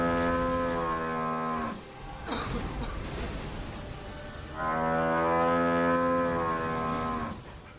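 Electronic moo alert sounding on a livestream, two long droning bursts of a deep, harmonic cow-like bellow separated by a brief noisy gap, loud and close with no talk over it.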